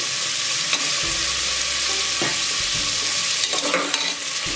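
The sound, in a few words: sautéing onion, beans, brinjal, carrot and other vegetables in a pan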